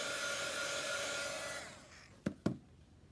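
A hair dryer blows steadily on freshly painted chalk-craft hearts, a loud broadband rush that cuts off midway, followed by two sharp knocks as it is set down.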